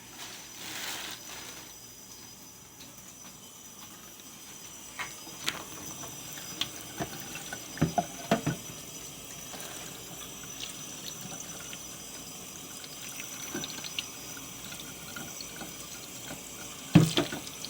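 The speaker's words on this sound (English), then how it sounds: "Rinsing that salmon off." Fresh salmon is rinsed under a running kitchen tap, a steady, quiet stream of water with soft splashing and a few brief clatters, close by with no talking.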